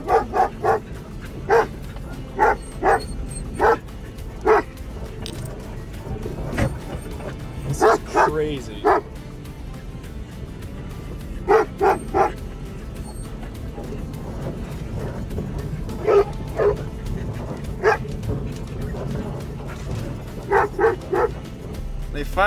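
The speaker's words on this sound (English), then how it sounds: "Just getting a drink of water now after all that barking." Herd dogs barking in repeated bursts of sharp barks and yips in open country, fairly close, with people talking between the barking.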